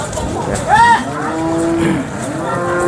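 A cow at a cattle market moos once, a long low call holding steady, fairly close and clear over faint background noise.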